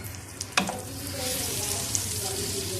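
Masala frying in a pan for Pakistani qeema karela, a steady close sizzle with a sharp clink of a utensil early on and soft stirring scrapes throughout.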